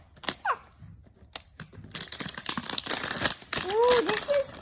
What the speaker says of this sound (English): now we just tear it and zip it down